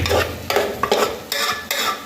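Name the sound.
stirring ingredients together in pan for tomato rice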